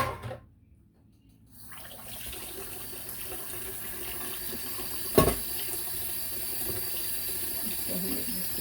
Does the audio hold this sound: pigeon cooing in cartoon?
no